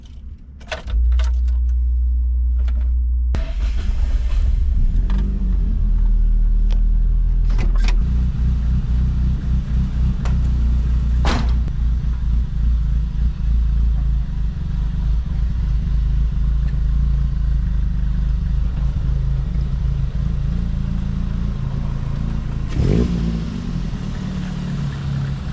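A Toyota AE86 with a rebuilt rear end is driven around a neighborhood: a low engine rumble starts up and holds steady, with clattering and rattling knocks from the car early on and near the end.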